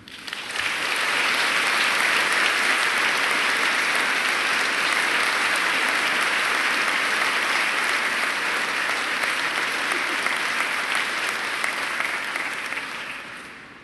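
A large crowd at a university community breakfast gives sustained, even applause for award winners, swelling in quickly and holding loud and dense for over ten seconds before tapering slightly.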